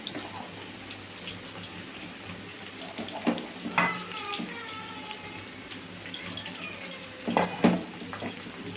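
Soya chunks (meal maker) fry in hot oil with a steady soft sizzle throughout, interrupted by a few louder stirring scrapes and clatters.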